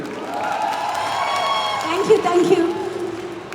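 Audience applause and cheering for actress Thesni at a Malayalam film promotion event, a brief burst of clapping and whoops rising near the end over a steady crowd murmur.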